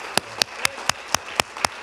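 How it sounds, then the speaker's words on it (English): Seven sharp, evenly spaced claps ring out in a steady rhythm against a quiet background, a lone clapper rather than the full round of church congregation applause. "Give him a round of applause."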